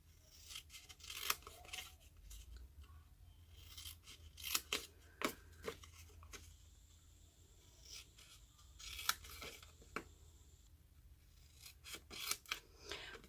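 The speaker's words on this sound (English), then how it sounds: "We are now going to cut up these score lines, stopping at the horizontal score line." Paper being cut with scissors along score lines for a stamped treat bowl, a run of close, crisp snips and slicing strokes, irregular and fairly quiet, with no talk.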